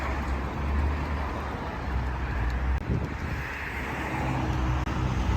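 Car traffic rushes steadily along a roadway on a windy day, a continuous near wash of passing vehicles mixed with gusty wind buffeting, with no talking.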